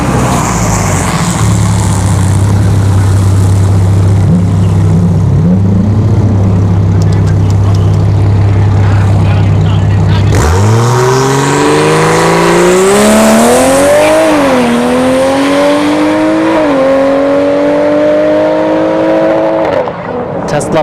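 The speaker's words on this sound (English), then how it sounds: "We got Tesla Plaid in the left lane, and Timmy Tornado in the A90 Supra." Tesla Plaid and a Toyota A90 Supra launch side by side at a dragstrip test-and-tune session, a steady idling drone giving way to loud, rising engine and motor roar with gear-shift dips as the cars pull away, under an announcer's talk.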